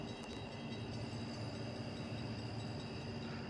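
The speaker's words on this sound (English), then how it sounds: "I'm gonna get this train in" A long freight train hauled by two SD40-2 locomotives rumbles past steadily at a distance, a low continuous roar with faint rattling, no voices.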